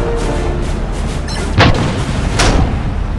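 A T90 tank's cannon fires in the War Machines video game: two heavy, booming blasts roughly a second apart, standing out over a steady rumbling game background.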